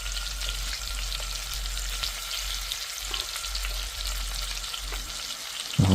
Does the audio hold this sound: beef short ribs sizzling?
yes